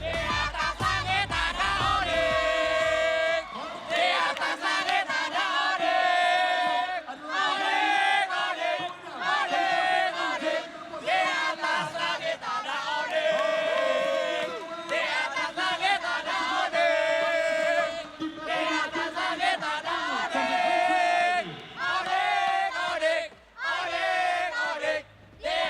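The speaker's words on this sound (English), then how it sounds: "can we hear the chant or the cheer for Team Onyx?" Fans at a Mobile Legends: Bang Bang esports playoff, the Snapdragon Mobile Masters, chant and cheer for Team Onyx. The loud crowd chant rises and falls in a steady rhythm, with brief dips, for the whole stretch.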